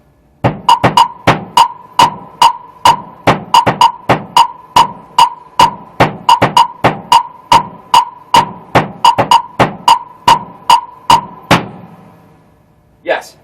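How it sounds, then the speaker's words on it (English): A 5/4 clave rhythm tapped on a hi-hat or jam block, a long run of sharp, bright, evenly loud clicks in a repeating grouped pattern, close and dry, ending with a soft ringing tail. "that is my take on the 5/4 clave rhythm"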